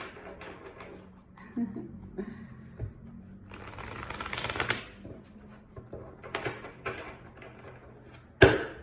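Tarot cards shuffled by hand in quiet bursts of riffling and flicking, close, with a louder rustling flurry in the middle and a sharp snap near the end, and a voice speaking between the shuffles.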